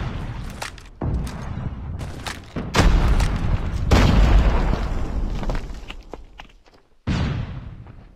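Booming blasts and sharp shots in a tactical shooter video game, with a loud, deep frag grenade explosion rumbling over several seconds among bursts of gunfire and a final sudden boom.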